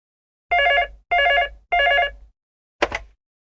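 Three loud, evenly spaced telephone rings, each a bright bell burst lasting about half a second, then a short fourth tone as the call is picked up.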